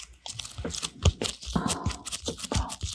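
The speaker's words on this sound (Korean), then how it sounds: "이게 이 비닐 소리도" Plastic vinyl wrapping on a K-pop album being handled and peeled open up close, a busy run of crisp crinkles, scratchy rustles and sharp tearing crackles with no talking.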